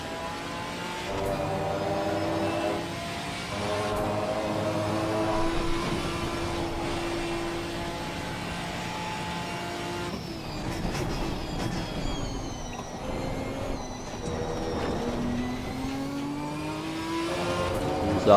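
A Ginetta GT4 race car in Assetto Corsa Competizione at Kyalami drones continuously, its engine revving up and down through gear changes at steady race pace, loud and close, with no voices.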